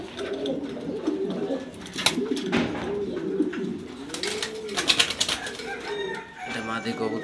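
A pair of pigeons in a home loft in Mirpur, Dhaka, cooing close by in repeated rolling, throaty phrases, with other birds calling faintly and a voice now and then in the background.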